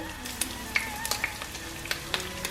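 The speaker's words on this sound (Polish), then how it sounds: "Będę każdy kawałeczek smażyć do momentu, aż nie będzie złocisty" Steady frying sizzle of chicken pieces in hot oil, with scattered small pops and crackles over a continuous hiss.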